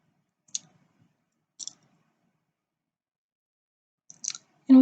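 Three sharp, isolated computer mouse clicks spaced about a second apart in a quiet room, close and crisp, followed by a sudden louder sound at the very end.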